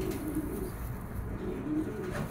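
A racing pigeon coos in low, soft, repeated rolling calls over a steady hum of background noise, faint and fairly close.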